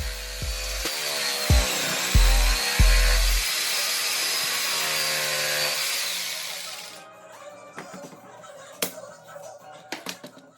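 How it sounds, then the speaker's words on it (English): A jigsaw buzzes steadily through wood, rounding off cornhole board legs, with a high whining rasp for several seconds, then cuts off, leaving scattered clicks and knocks nearby. "I'm using a jigsaw to round off the legs so they can fold properly."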